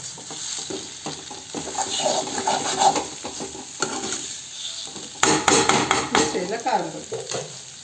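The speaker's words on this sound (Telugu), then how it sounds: "కింద మాడిపోయినట్టున్నది గీకేసుకోవాలి" Metal spatula scraping and stirring fried egg stuck to the bottom of a hot pan, with irregular rasping strokes over a light sizzle, busier toward the end.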